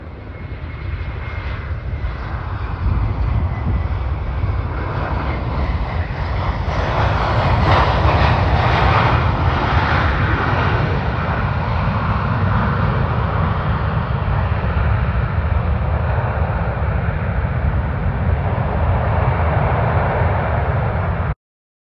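A Delta airliner lands on runway 12 right at Minneapolis, its jet engine roar loud and sustained, swelling midway and then holding steady as a broad continuous rumble heard from a spotting position, with no voices.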